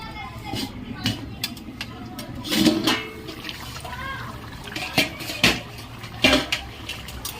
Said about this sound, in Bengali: এবার মাংসটা ঢেকে দিয়েছিলাম, এখন একবার নাড়িয়ে নেব